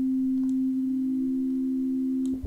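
A single steady pure sine tone from an FM8 synthesizer operator, tuned up with no frequency modulation, holds unbroken and evenly loud throughout, with faint clicks near the end.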